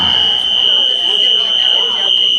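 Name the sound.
fire alarm sounding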